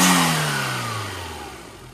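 A turbo-swapped Daihatsu Mira engine revs up and then winds down, a loud close roar that sinks steadily in pitch and volume over about two seconds, with no voices.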